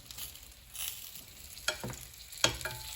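Onions and peppers sizzle and hiss in a pan with pineapple bacon sausage, a steady frying crackle broken by a few sharp stirring clacks and scrapes.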